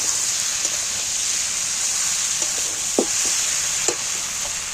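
Jackfruit curry made with goat fat is stirred in a pan, giving a steady bright sizzle with a few soft spoon scrapes and taps scattered throughout, no voices.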